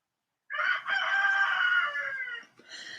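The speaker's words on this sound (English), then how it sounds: "I got 2 roosters. Yeah, it's fun. They're big black roosters." A big black rooster crows once up close in Pahrump, Nevada, a loud, drawn-out cock-a-doodle-doo with a brief clucking call following right after.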